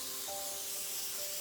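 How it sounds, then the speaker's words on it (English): Cooking spray hisses onto a hot pan in one steady, loud burst of spray lasting over a second, with faint tonal hum beneath and no talking. "I'm just gonna use a spray"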